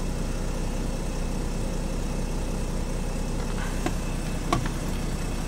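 A Jeep Grand Cherokee with the OM642 diesel engine idles steadily at normal RPM after a DPF regeneration, a constant low rumble throughout with a couple of faint clicks near the end.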